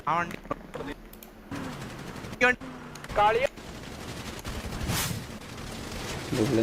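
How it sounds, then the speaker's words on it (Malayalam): Rapid gunfire from a video game roleplay shootout, delivered in several short bursts. Loud game audio and voices run beneath and between the shots. "അതിൽ മാസിക്ക ഫയർ ചെയ്യുന്നുണ്ട്."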